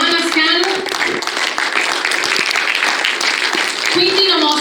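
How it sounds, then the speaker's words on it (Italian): Steady audience clapping for the jury at the Olbia literary award ceremony runs throughout, thick and close, while a person talks above the applause. "vi chiedo un fortissimo applauso per Francesco Pala, il nostro presidente"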